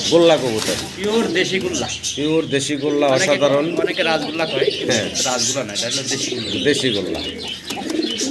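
A pair of Gola pigeons coo close by in repeated throaty, rolling phrases, with a voice talking faintly beneath.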